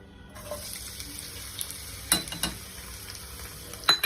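Steady hiss of onion frying in two spoons of hot oil, close by, with a few sharp crackles and spatters rising above the sizzle.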